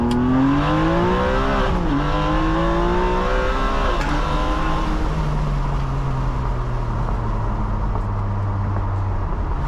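A Ferrari 599 GTB's 612-horsepower V12 engine revs hard and loud toward 8,300 RPM, pitch climbing and dropping through repeated throttle blips, close by with no talking.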